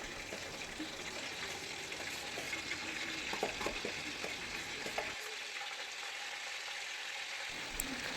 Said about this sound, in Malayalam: ഇപ്പോൾ എണ്ണയൊക്കെ നല്ലപോലെ തിളച്ചുകൊണ്ടിരിക്കുകയാണ്.